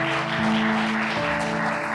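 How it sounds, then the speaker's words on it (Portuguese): A church congregation applauds with dense, steady clapping over a sustained low hum. It stays even and continuous for the whole short stretch, with no voices. "Um aplauso para eles."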